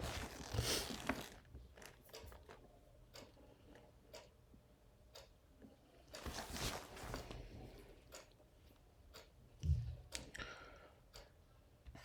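Quiet, scattered computer mouse clicks at irregular intervals over several seconds, close by, with faint handling rustles between them and no talking.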